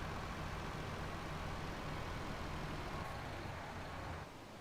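A truck drives in Farming Simulator 19, a steady low engine drone and road rumble that holds constant and drops slightly at the end, with no talk.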